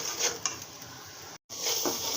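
Spiced curry with potato being sautéed and stirred in a pan: soft scraping and clinks over a faint sizzle, close, briefly cut by a moment of silence.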